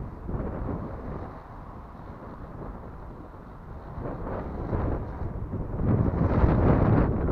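Steady wind buffeting a microphone at a lagoon during stunt kite flying, a low rumbling rush that swells toward the end, with no voices.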